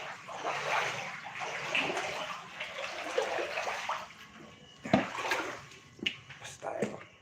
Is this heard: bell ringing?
no